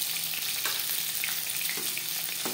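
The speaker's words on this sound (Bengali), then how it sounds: "মাছ ভাজা হয়ে গেছে" Pieces of fasha fish sizzle steadily in hot oil in a pan, a dense, even crackle close by with small pops and the occasional scrape of stirring, and no one talking.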